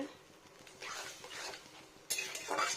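Okra added to a pan and stirred, giving faint scraping, clinks of a utensil against the pan and soft sizzling in short bursts, with a louder burst near the end; quiet, close and without talk.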